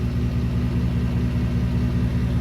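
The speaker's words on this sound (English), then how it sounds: "That's what it sounds like at base idle" Ford F-150 pickup with a 5.0 Coyote V8 and muffler delete idling at base idle, a steady, deep, loud rumble with an even low throb throughout, heard close and alone.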